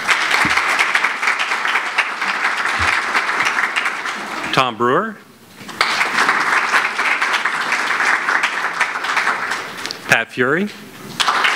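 An audience applauds inductees at a youth sports wall of honor dedication ceremony in Torrance: loud, sustained applause twice pauses briefly while a man announces names.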